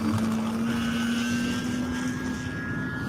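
HobbyKing Sbach RC model airplane flying overhead, its propeller and engine making a steady droning whine with a sustained tonal buzz that holds level throughout, fairly loud and alone.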